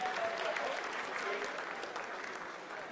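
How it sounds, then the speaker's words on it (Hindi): Applause fills the mission control room during the Chandrayaan-3 moon landing, steady clapping from a crowd at moderate distance with faint voices mixed in. "Lot of applause indicates that till now the performance has been nominal."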